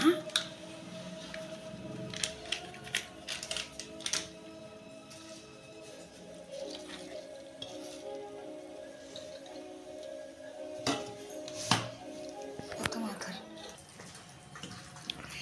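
Biryani ingredients, including pieces coated with chili powder, are mixed by hand with irregular wet squelches, soft squishes and occasional clicks close up. A voice talks intermittently underneath.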